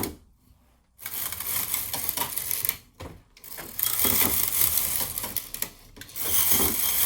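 A Silver Reed SK-840 knitting machine with a Mylar pattern sheet knits two-colour Fair Isle: a whirring, clattering carriage sweeps across the bed in several passes separated by short silent pauses.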